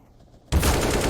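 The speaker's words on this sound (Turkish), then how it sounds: "Headshot'ı gönderdi Forrester." Rapid gunfire bursts out abruptly in a Counter-Strike match on the Mirage map, a loud, dense volley cutting through the brief quiet before it.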